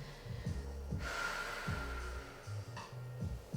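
Slow, deep breaths during a stretching exercise class, quiet and close, with several rhythmic inhales and exhales and a longer airy breath in the middle, no talking.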